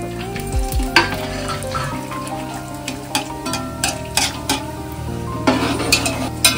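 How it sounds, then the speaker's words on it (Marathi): Dry fruits frying in a pan while prasad is prepared for a Satyanarayan puja, with steady stirring scrapes, soft sizzling and occasional metallic clinks of a spoon against the pan, fairly close. "हे सगळे जरा फ्राय करून परत हे बघा काढून घेतलेत आपण"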